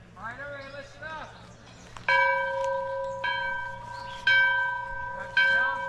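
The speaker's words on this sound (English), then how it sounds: "That bell's ringing." A church bell rings during an outdoor gardens tour, sounding four loud, sustained strikes that each ring on and fade, following a brief stretch of talk.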